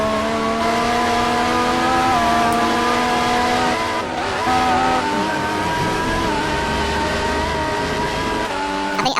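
GP2 race cars scream around Bahrain in a racing video game, several high-revving engines overlapping loudly and continuously with rising and falling pitch as they shift gears, filling the whole stretch without pause.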